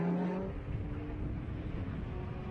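A GT race car passes on the track at COTA during a Blancpain GT World Challenge America race, a faint, distant engine whir that fades after a brief tonal note at the start.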